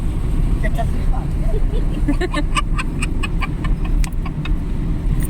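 A car drives along the Noida Expressway with a constant, loud low road and engine rumble inside the cabin, steady throughout, while people talk over it.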